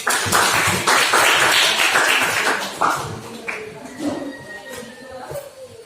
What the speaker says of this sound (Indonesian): kepada Nabila yang sudah menjawab kita berikan aplaus